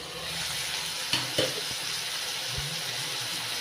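Wheat semolina roasting with tomatoes in a covered pan for upma, a soft continuous sizzle with a couple of faint clinks, steady and close.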